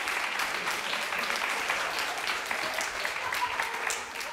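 A studio audience applauds in a steady, dense wash of many hands clapping, continuous for several seconds at an even level, with no voice over it.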